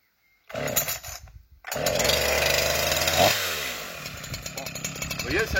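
A chainsaw is pulled on the starter, coughs briefly, then catches and runs loudly at a steady idle with revving, close by, with a voice heard near the start.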